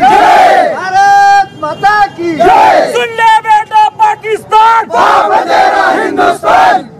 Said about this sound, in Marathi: आपण पाहू शकता कशा पद्धतीनं घोषणाबाजी देऊन या ठिकाणी जल्लोष साजरा करताना